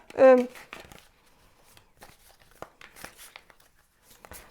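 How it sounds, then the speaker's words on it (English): A deck of tarot cards is shuffled close by in short, crisp riffles and papery rustles that start and stop, with someone speaking briefly at the start. "I'm gonna shuffle and see what the cards have to say"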